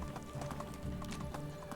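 A shod horse's hooves clip-clop at a brisk, steady gait in the medieval village game Medieval Dynasty, moderately quiet beneath a dense background mix.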